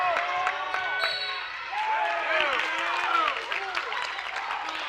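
Crowd at a high school boys basketball tournament game cheering and clapping loudly, a steady roar over squeaking sneakers and ball bounces on the court, with voices talking throughout.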